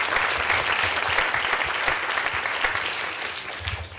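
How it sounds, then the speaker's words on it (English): An evening audience at a design school talk gives a warm, steady round of applause that stays close and even for a few seconds, then eases slightly. "Perhaps we could give them a round of applause for showing up this evening."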